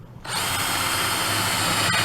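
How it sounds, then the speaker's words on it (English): A power drill whirs steadily and loudly for about two seconds, drilling through a tuner hole in a guitar headstock, starting abruptly after a brief quiet moment. "and then go up here and drill through the tuner hole"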